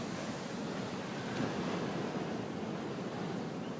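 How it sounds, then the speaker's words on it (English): Ocean surf breaks on a rocky shore in Hawaii after a hurricane, a continuous loud wash of waves with wind noise and no pauses. "Waves have gotten much smaller"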